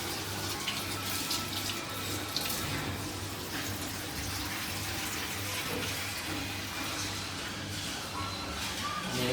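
Water runs steadily into a cooking pot for a chicken dish, a continuous tap-like pour lasting several seconds with a low background hum.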